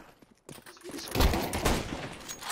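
Bursts of rapid gunfire ring out in a shooting video game after a brief quiet opening, the shots crackling densely and sustained for a couple of seconds.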